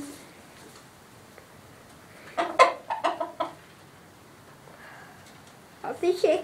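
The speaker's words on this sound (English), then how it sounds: "That's all my hens." Backyard garden hens cluck in short, fairly close bursts, first a cluster of several clucks and then another flurry near the end, over a quiet outdoor background.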